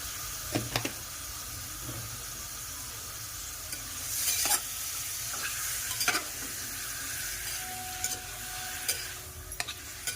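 Chicken cooks in a pressure cooker over heat with a soft steady sizzle, broken by a few sharp stirring clanks and scrapes of a spoon against the pot, moderately quiet with no voices.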